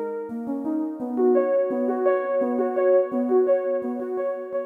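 A synthwave synth lead line in Reaktor plays a melodic run of bright, sustained notes while short chord stabs join in. The rhythmic pattern is steady and clear, with no voices.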